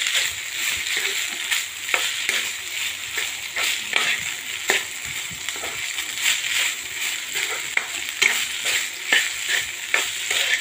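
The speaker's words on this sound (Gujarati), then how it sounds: "ચમચાથી સરસ મિક્સ કરી લેશું." A ladle stirs mung bean masala rice in a pan, making repeated close scraping knocks over a continuous sizzle, alone without speech.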